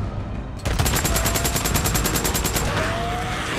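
Rapid automatic gunfire from a Days Gone firefight, a dense, loud run of evenly spaced shots starting abruptly and continuing for about two seconds, then rattling echoes and lingering noise.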